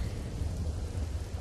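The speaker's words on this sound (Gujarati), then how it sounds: "અંબાજી પંથકમાં કરા સાથે વરસાદનું આગમન થયું." Heavy rain with hail pouring down in Ambaji, a steady dense roar with a deep rumbling low end, continuous and fairly loud with no voices.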